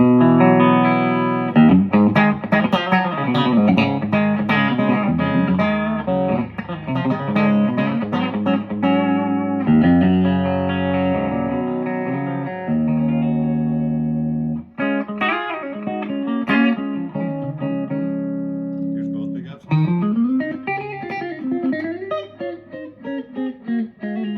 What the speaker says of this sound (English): This is my pink Neville Telecaster on the bridge pickup